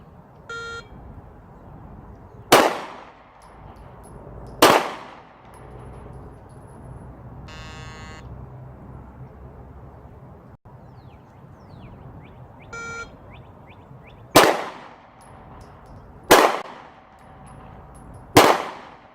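Handgun shots at an outdoor range during a license-to-carry shooting proficiency test: sharp, loud reports come in two groups, two then three, spaced a couple of seconds apart, with electronic beeps between them marking the stages.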